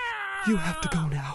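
A cat lets out a drawn-out, wavering meow close to the microphone while a voice speaks over it.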